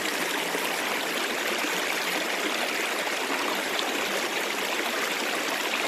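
The East Fork of the San Gabriel River flows steadily nearby, a constant, dense rushing and trickling wash of water with no voices, even in loudness throughout.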